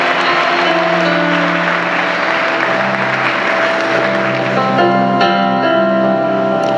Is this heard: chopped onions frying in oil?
no